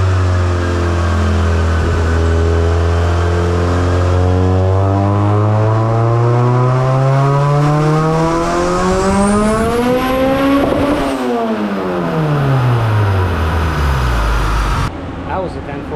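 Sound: Honda D2B engine car revving on a dyno pull

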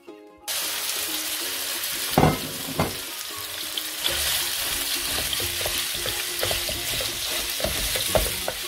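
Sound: minced meat (keema) frying in oil in a pan

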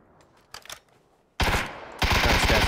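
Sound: gunfire in the video game PUBG

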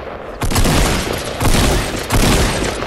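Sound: huge explosion in the video game Fortnite

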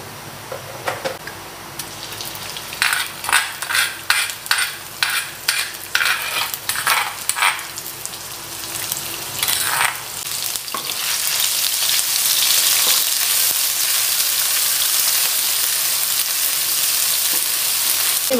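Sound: cooking oil sizzling and stirring in a pan

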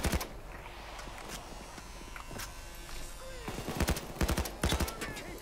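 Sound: gunfire from the video game PAYDAY 2

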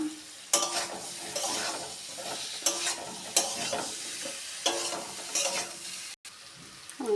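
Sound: pumpkin and potato curry with bori being stir-fried

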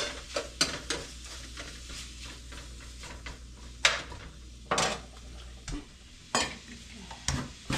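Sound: beef browning in a pot for barley soup

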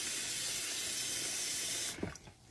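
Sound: water filling a pan

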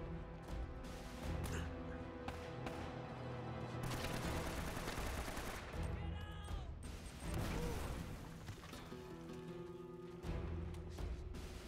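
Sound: gunfire from the video game Uncharted

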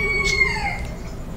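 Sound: chicken crowing

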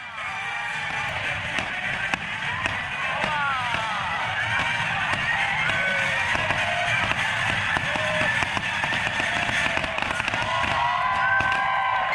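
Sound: fireworks exploding

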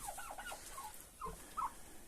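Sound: chickens and turkeys in barn

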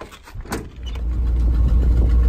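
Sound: old Ford F-350 truck engine running

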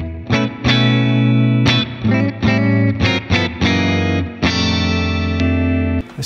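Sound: guitar reverb effect on Valeton GP200

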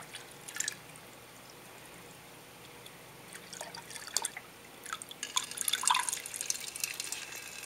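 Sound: water flowing out of fish tank filter spout

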